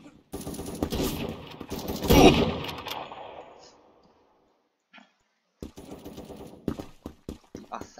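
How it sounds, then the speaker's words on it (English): Assault rifle fire in the first-person shooter game Krunker: a dense, rapid burst of automatic shots that swells and then fades into near silence. Scattered clicks and shorter bursts follow, and no voice is heard. "Assault rifles."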